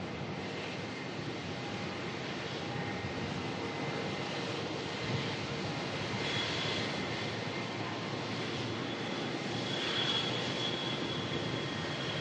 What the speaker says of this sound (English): UA61 going to head off to San Francisco in the 787 Dreamliner.